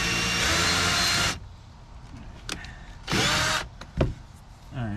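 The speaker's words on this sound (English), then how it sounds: "I'm going to actually drill a screw here just to kind of keep this brace in place" Power drill driving a screw into a brace during a fiberglass boat soft-floor restoration: a loud steady whine for over a second, then a second shorter burst of drilling, with light handling clatter between.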